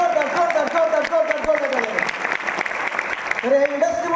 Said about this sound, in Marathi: एकदा जोरदार टाळ्या झाले.